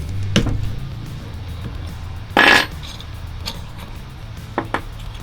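Metallic clinks and a short rattling scrape as an Allen key is handled on a Bosch 10.8V cordless mini grinder to change the disc, a few sharp close taps spread around one brief louder grinding-like rasp.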